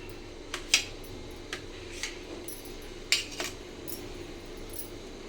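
A knife cuts set milk junnu into pieces, giving a handful of faint, sharp metallic clicks and taps as the blade touches the dish, spaced irregularly over quiet background.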